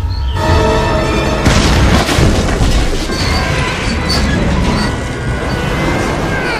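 A train brakes hard to a stop in a superhero film scene, with a loud, continuous roar of grinding metal and high squealing that holds steady throughout.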